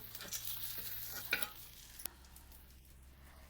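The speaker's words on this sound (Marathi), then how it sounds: "डाळ चांगली अशी आपण भाजून घेऊया" Dry lentils scrape and rattle against a hot griddle over a wood-fired stove as they are stirred, a faint, quiet scratchy shuffling with a brief clink.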